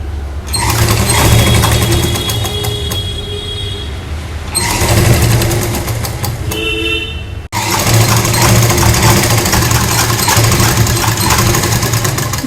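A sewing machine stitches a trouser pocket in two long, loud runs of fast, steady needle rattle, pausing briefly at about seven seconds before starting again, with no talking.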